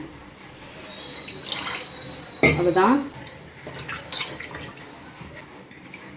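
Water splashes and swishes inside a metal pressure cooker as it is rinsed, in short bursts, with a brief spoken word and light clinks of metal nearby.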